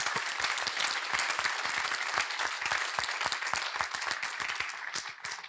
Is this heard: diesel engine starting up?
no